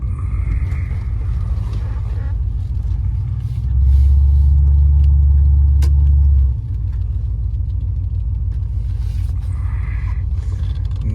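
A 1980 Porsche 928 rolls into a dealership with a steady low engine rumble that swells louder for a few seconds before easing back to a quieter idle.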